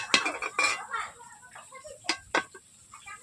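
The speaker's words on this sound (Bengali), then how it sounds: "আমি কড়াই থেকে এখন থালাটা ঢেলেই নিচ্ছি" Metal utensil scraping and clanking against a wok while cooked Malabar spinach greens are tipped onto a plate, a few sharp clinks and scrapes separated by quiet gaps.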